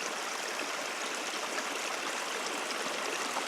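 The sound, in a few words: creek water flowing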